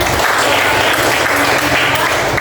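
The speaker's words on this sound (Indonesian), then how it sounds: "Tepuk tangan semuanya." A classroom of young pupils applauds loudly and steadily on the teacher's cue, a dense, continuous clatter of clapping close by from start to finish.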